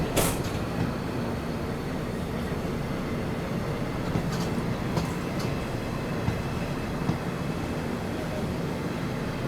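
A train pulls slowly out of Haratki railway station on the Guwahati–Sairang (Mizoram) Express route, a steady loud rumble of wheels and carriages with faint clicks, heard from on board.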